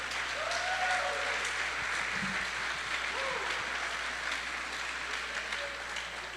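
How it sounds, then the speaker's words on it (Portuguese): A church congregation keeps up steady applause during a sermon on God's grace, even dense clapping throughout that eases slightly toward the end. "Forte esse aplauso à palavra de Deus."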